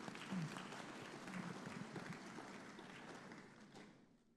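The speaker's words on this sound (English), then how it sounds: "Please, a round of applause." Applause from an audience at a digital finance summit in Accra, a steady wash of clapping that swells slightly and then fades toward the end.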